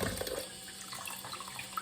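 Tap water runs softly into a container of pickled eggs as warm water is swapped for cold, a faint, steady trickle and splash with small bright spatters.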